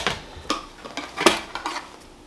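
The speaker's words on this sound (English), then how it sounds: "what we're going to do is cut this guy in half, or close to it" A knife cuts a boneless pork loin in half on a board, making several sharp taps and scraping knocks at an uneven pace, fairly close and clear.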